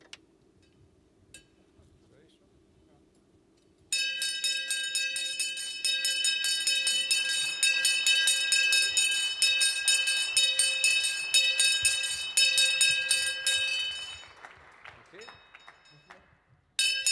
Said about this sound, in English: the traditional ringing of the bell